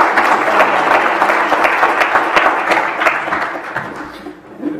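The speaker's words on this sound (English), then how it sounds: "Could just give one final round of applause to all the 2018 inductees." Warm sustained applause from an audience at a Texas Appellate Hall of Fame induction ceremony for the 2018 inductees, dense steady clapping in a hall that thins out toward the end.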